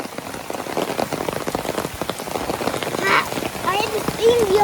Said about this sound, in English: like heavy rain. But I like heavy rain.